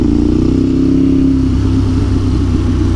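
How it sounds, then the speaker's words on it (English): Ducati 848 Evo L-twin engine fitted with carbon slip-on exhausts, revving loudly and steadily close by, its deep throbbing note rising briefly and then settling back toward idle, with no other sounds. "So these Ducati L Twins have a very distinguishing soundtrack to them."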